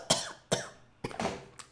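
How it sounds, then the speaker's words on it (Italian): A person coughs close by, giving four sharp bursts in quick succession with no other sound between them. "Mannaggia questa tosse!"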